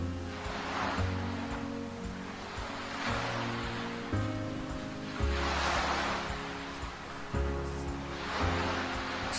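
Ocean waves in an added green-screen video scene roll in and wash out in slow repeating surges, each swell rising and fading over a steady low hum.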